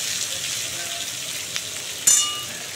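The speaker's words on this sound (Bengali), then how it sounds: "এই যে পেঁয়াজটা যে ভাজছে।" Onions frying in a pan for chicken kosha give a steady, close hissing sizzle, with a brief clatter and louder crackle near the end.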